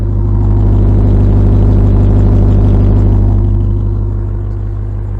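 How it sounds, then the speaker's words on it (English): A loud, deep exhaust rumble from a 2022 Ram 1500 TRX pickup recorded up close, holding a strong low drone that swells briefly and then eases off slightly. "I'm going to get my mic close to this exhaust so you can hear it."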